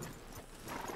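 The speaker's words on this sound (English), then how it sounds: "Let's leave the horses here and take a look." Horse hooves clip-clop in Red Dead Redemption 2, a soft, muffled patter of steps heard against a dull background ambience.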